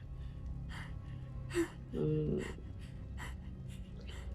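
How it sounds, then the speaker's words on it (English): Brief, breathy gasps and heavy panting from a character in a House of the Dragon episode, faint and low under a quiet background, with a couple of short breaths clustered near the middle. "Why are you panting?"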